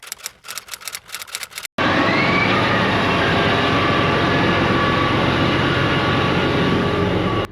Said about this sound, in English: So right now we just started the tractor